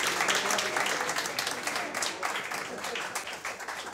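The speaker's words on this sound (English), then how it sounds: "Now, a round of applause for Clive." Bar audience applauding, a continuous spread of many hands clapping for several seconds, moderately loud and slowly fading near the end.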